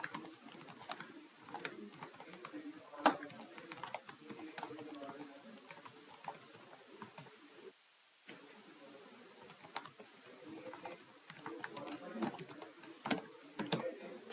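Someone types code on a computer keyboard while solving a Codeforces round problem, producing rapid, close clicking keystrokes in bursts with a brief pause midway, then resuming steady typing.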